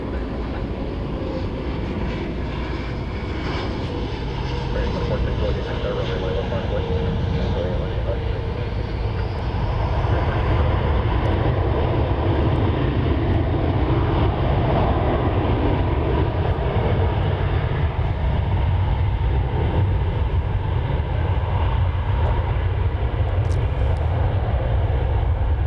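An airliner with a bear painted on its tail, arriving from Las Vegas at Dallas-Fort Worth airport, makes a loud, continuous low rumble and engine roar that builds slightly and holds steady, with a voice occasionally heard beneath it.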